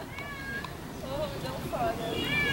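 Several cats meowing near a guesthouse deck in Colonia del Sacramento, Uruguay, a few overlapping thin rising and falling mews close by, with a voice talking over them.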